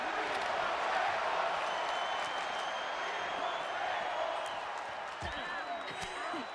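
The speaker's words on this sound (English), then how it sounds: "Crowd yelling, "We want tables."" A wrestling crowd at a no-holds-barred indoor event yells and cheers in a steady, dense roar, with scattered claps and thuds mixed in and a commentator talking over it.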